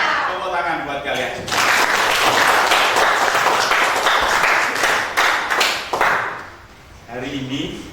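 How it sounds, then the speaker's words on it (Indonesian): A school class bursts into loud, dense clapping close by, lasting several seconds before fading. A voice speaks briefly before and after the applause. "Tepuk tangan buat kalian."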